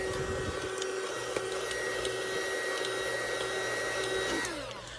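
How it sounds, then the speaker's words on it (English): A handheld embossing heat gun blows steadily close by, warming vinyl on a cut-and-sew fleece craft panel. It whirs at a constant pitch before trailing off near the end. "I'm going to warm it up a little with my embossing gun"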